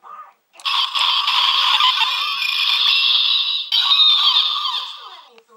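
A Power Rangers Dino Thunder toy morpher plays an electronic bird screech, a bright, sustained squawking call lasting about five seconds after a brief chirp, loud and close with no talk over it.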